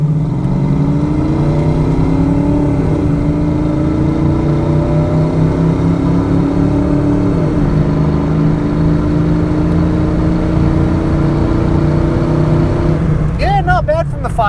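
A 1990 Ford Mustang LX hatchback with the 5.0-liter V8 and AOD automatic transmission drives down the road. Its engine drones loudly from inside the cabin and its pitch rises through gear changes as it accelerates.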